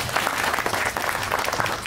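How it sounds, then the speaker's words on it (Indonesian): An audience at an Indonesian Ministry of Religious Affairs gathering on anti-corruption claps in a dense, steady burst of applause that fills the room, with no speech on top. "Tepuk tangan lagi Bapak Ibu."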